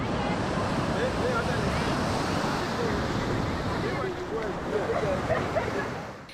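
Steady, loud wash of surf and gusting wind at a beach, a dense continuous roar with wind buffeting the microphone, faint indistinct voices mixed in, easing slightly toward the end.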